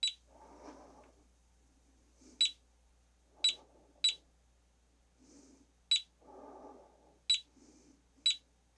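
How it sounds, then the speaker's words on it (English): Near a Pentax lens, a radiation detector gives short, bright beeps at uneven, random intervals, with soft handling rustle and murmurs in between. "Each beep, I think it's the registered particle."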